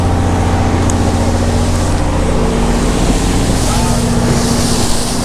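A steady low engine drone with wind and water noise, like a motorboat running close by on the sea, continuous throughout.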